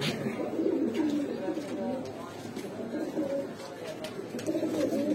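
Low pigeon cooing rolls on continuously nearby, mixed with background voices in a busy, crowded pigeon market.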